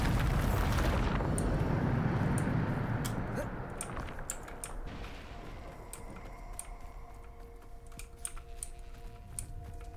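A Bombarda spell explosion in Hogwarts Legacy: a loud, deep blast rumbles and slowly fades over several seconds, and light keyboard clicks tap away underneath as it dies out.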